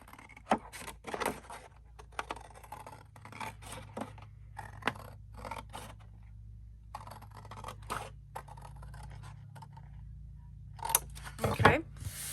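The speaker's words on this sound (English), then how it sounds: "And then I'm going to cut this piece completely out." Scissors snipping out a piece of paper for a junk journal craft, a run of short crisp cuts and scrapes in irregular rhythm, close and fairly quiet, then a louder rustle near the end.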